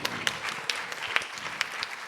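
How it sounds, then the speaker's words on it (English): Audience applause at a children's annual day performance, with steady clapping and a few sharper claps standing out across two seconds. "Let's give them another big round of applause."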